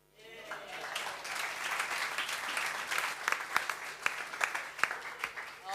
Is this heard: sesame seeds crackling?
no